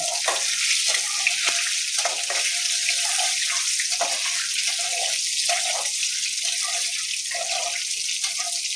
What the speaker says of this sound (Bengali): আলুটা দিয়ে এবারে একটু নেড়ে নেব ভালো করে।